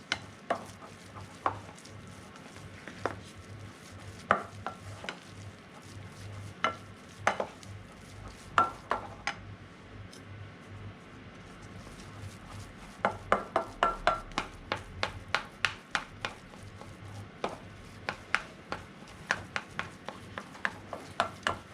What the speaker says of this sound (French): Je mélange de façon homogène, de manière à ce qu'on ne voit plus de petits grains de farine.